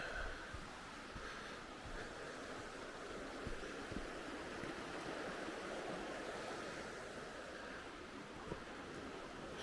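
Steady broadband rushing of water running through a channel into the river, a continuous faint wash with small splashy ticks, heard outdoors on an evening riverside walk without talk.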